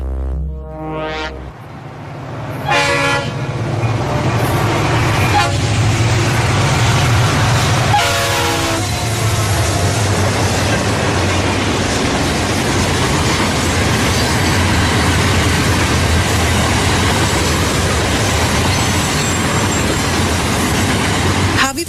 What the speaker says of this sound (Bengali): ওদের নামিয়ে দিয়ে ট্রেনটা হাঁপানি রোগীর মতো কাশতে কাশতে বিদায় নিয়েছে